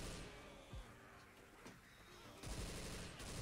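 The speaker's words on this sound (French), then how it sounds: "Oh, et puis j'ai tiré sur le truc d'essence." Gunfire bursts in Left 4 Dead 2 as a gas can is shot, with sharp shots at intervals and a louder burst near the end. The overall level is faint and slightly distant.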